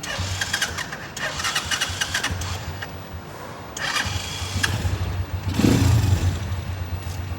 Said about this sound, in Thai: ฟังเสียงเครื่องยนต์นะครับนิ่มมากนะครับผม